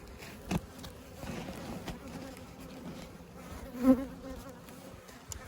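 Honeybees buzz steadily during an early spring hive split as frames of bees are moved, a close, continuous hum with a brief louder swell near the end and no talking.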